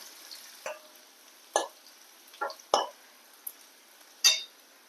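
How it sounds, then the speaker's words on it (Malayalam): Curry leaves hit hot oil in a pan with onions while a Kerala ash gourd (kumbalanga) curry is being made. A handful of sharp, separate crackles and pops stand out over a quiet background. "നമ്മൾ കുറച്ച് കറിവേപ്പില ഇട്ട് കൊടുക്കുകയാണ്."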